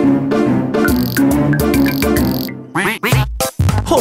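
A cartoon duck from the Pocoyo children's series quacks repeatedly in loud, nasal, rhythmic bursts, followed by a few sharper, choppier squawks near the end.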